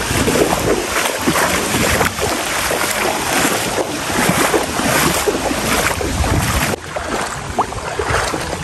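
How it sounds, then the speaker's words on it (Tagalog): Strong wind roars steadily across the microphone, a loud dense rush that barely lets up, with gusts buffeting throughout. "lakas naman ang hangin"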